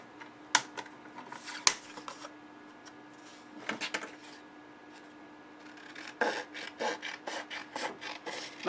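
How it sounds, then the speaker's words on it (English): Scissors trimming a small piece of paper for a card, giving a few sharp snips followed by soft rustling and quick cutting clicks, close and quiet with no talk. "I just have to use my scissors to trim off that little piece there"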